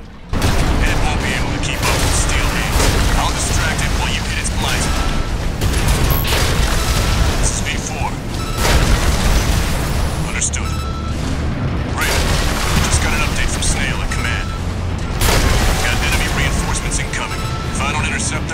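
Dual Zimmerman shotguns in the game Armored Core 6 pounding away in dense, rapid booming blasts against a large enemy, loud and nearly continuous with mechanical crashes, under steady talk.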